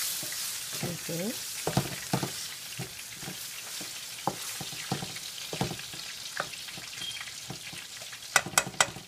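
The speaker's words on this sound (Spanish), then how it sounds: "Ahora dejamos que nuestra salsa se fría un poco." Sauce frying in a pan while fish is prepared, with steady sizzling and repeated sharp stirring or utensil clicks throughout, a brief spoken word partway in.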